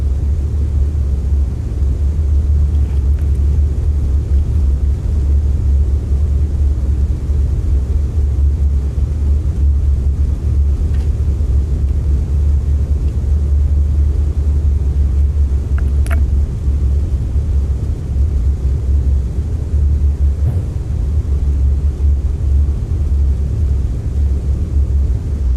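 A Pan Am Lockheed Super Constellation taxiing in a flight simulator, its piston engines giving a steady, loud low rumble that drones on without a break, with a couple of faint clicks on top.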